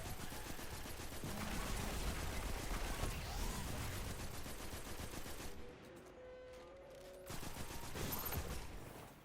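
Auto rifle fire in Destiny 2 during a solo Grandmaster-level Nightfall on a Warlock, rapid continuous bursts of shots with a brief lull midway before the shooting resumes, fairly faint overall.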